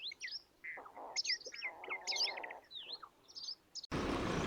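Bright chirping calls of water birds in quick overlapping bursts beside a sluice gate, several birds calling near and far, ending with a sudden rush of broadband noise.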